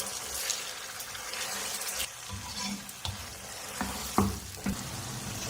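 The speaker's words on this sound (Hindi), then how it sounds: "भूनेंगे इसके साथ ही, प्याज के साथ कीमे को, इसका कलर चेंज हो जाए" Marinated minced qeema frying with onions in a pan gives a steady, close sizzle, with scraping and stirring noises rising now and then over the hiss.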